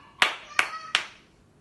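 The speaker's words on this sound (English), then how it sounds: "Clap." Three sharp hand claps ring out close by at an even, unhurried pace, each crisp and distinct against a quiet background.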